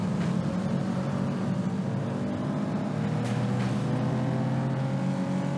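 Car engine in a video game race, a steady droning motor hum that holds even and loud throughout, with no talk.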